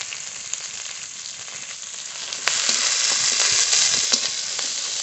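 Chopped onions, green chillies and whole cumin fry in hot oil for a Bengali rui fish kalia, giving a steady close sizzle that grows louder halfway through, with a few soft stirring clicks and no voices.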